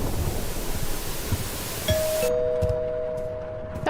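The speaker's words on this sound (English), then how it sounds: "That was the front doorbell." A front doorbell in the horror game Suffer the Night rings as a clear electronic two-tone chime over steady storm rain and rumble, the second note sustaining before the rain noise drops away.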